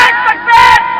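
A crowd at an Islamic religious sermon (bayan) chants slogans together, loud and close, rising in two surges with a brief dip between them.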